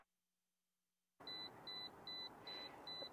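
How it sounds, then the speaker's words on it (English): After a second of silence, five evenly spaced high-pitched electronic beeps sound in a steady rhythm, clear and close, like a car's seatbelt warning chime. "related to the beeping that you're hearing"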